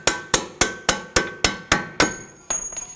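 A hammer strikes a punch to free the steering knuckle of a 2001-2009 Volvo S60 during front wheel bearing and hub work: eight sharp metallic blows in steady rhythm, close and loud, with a ringing tone at the end.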